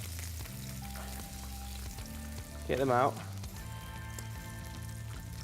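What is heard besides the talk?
chicken frying in sizzling oil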